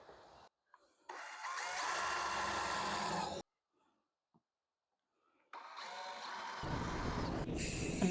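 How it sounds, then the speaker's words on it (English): A power drill bores drainage holes in upturned plastic planters, whirring loudly in two sustained bursts of a few seconds each, separated by a short silent pause, with no talking. "we're going to drill the holes for drainage"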